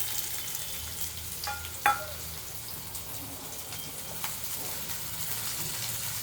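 Chopped onion frying with cumin in a hot pan for dal tadka, a steady close sizzle with a brief clatter of stirring partway through.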